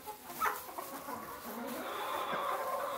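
Homestead chickens clucking softly on a farm, a few faint intermittent clucks and murmurs over a quiet outdoor background.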